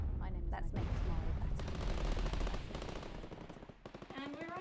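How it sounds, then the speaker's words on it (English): Rapid bursts of close machine-gun fire in the video game Not For Broadcast, loud rattling volleys one after another, with a voice briefly present. "Oh, that gunfire's very close."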